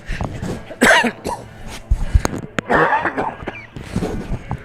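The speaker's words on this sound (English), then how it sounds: "And I got a cough again." A man in a sports broadcast booth coughs in a few harsh bursts, some throaty and repeated, close to the microphone with no speech between them.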